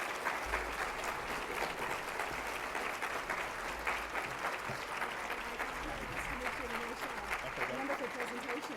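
Sustained applause from a conference audience after a keynote talk fills the room with dense, steady clapping for several seconds, with faint voices murmuring underneath.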